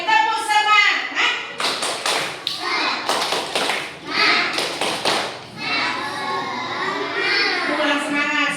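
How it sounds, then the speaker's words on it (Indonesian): Children in a classroom doing a rhythmic spirit clap, sharp bursts of clapping in short patterned groups alternating with their chanting voices, close and lively. "Sebelum pelajaran dimulai, tepuk semangat"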